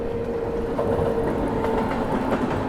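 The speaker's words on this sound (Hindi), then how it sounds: "आगे यहाँ से कोई ट्रेन भी क्रॉस हो रही है" Valsad–Haridwar express crossing on the adjacent line, heard from inside a moving train as a loud, steady rumble of wheels and carriages.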